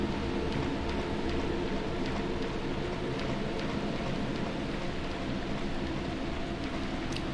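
Steady, dense rain in the video game Deadly Premonition Origins, a constant hiss of falling water that stays even and unbroken throughout, with no voices over it.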